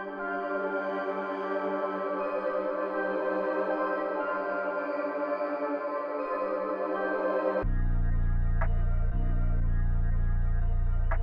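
A layered electronic beat plays a sustained synth melody with a rippling arpeggiated texture, then a heavy booming bass section takes over partway through.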